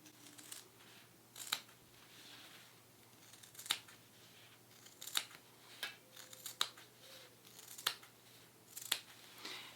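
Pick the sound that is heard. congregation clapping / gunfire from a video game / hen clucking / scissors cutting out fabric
scissors cutting out fabric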